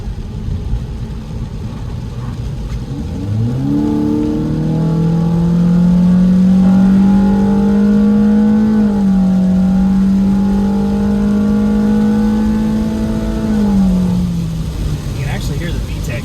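A 2022 Honda Civic Sport with an AEM cold air intake revs up as it accelerates onto a highway, a rising intake roar swelling then holding steady before easing off, loud and close inside the cabin.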